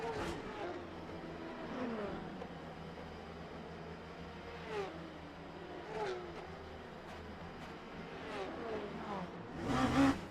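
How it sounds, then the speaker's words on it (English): Race cars from the SPA LMP2 racing game drone past continuously, with engines rising and falling in pitch as cars pass one after another, fairly faint and steady, with a louder pass at the end. "I can still hear these cars coming."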